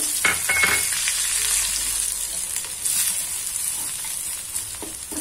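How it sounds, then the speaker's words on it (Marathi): Spices sizzle steadily and close-up in hot oil: asafoetida, coconut, coriander, cumin, turmeric and chili powder fried as masala for bedai puri, with a continuous crackling fry and no voices. "याच्यात आपण टाकत आहे खोबरं धने जिरे थोडी पावडर थोडी हळद थोडं तिखट"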